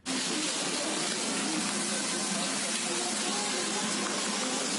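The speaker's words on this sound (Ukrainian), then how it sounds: "на дорогах вода із сильними потоками" Floodwater streams hard through city streets in Lviv during a heavy downpour, a dense, loud, steady rushing wash of water that continues without a break and drowns out everything else.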